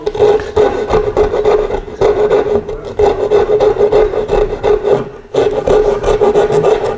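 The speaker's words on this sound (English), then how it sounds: "rasp here to take off a little of the material." A hand rasp files continuous rough strokes into the wood of a step stool being built with hand tools, loud and close, with one brief break near the end.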